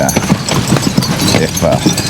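Suffolk Punch draft horses walking during harness training, their hooves clip-clopping in a loud, fairly regular rhythm close by, with voices and other outdoor noise mixed in throughout.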